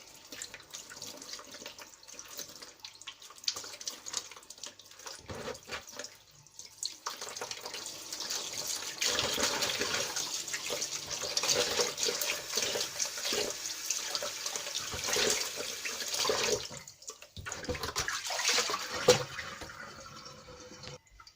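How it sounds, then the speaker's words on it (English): Water splashes and sloshes in a bowl as tilapia is rinsed, continuous swishing, pausing briefly before resuming with louder, busier splashing. "you just pour in some water, rinse thoroughly"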